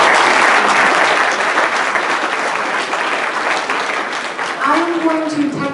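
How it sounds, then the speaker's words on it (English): Sustained applause from an audience after a panel discussion at a meeting, steady dense clapping that fades slightly as a voice begins speaking near the end. "can we get a big round of applause for our panel"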